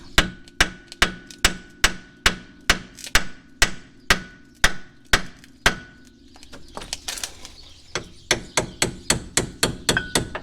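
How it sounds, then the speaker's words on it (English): Hammer blows hit the cast iron spindle of a Ford Ranger during a lift install, driving it loose; about two dozen sharp metallic strikes in a fast steady rhythm, close and loud, with a brief scraping pause partway through. "Now we are gonna hit on the spindle because it's like cast iron, so it's gonna basically loosen up."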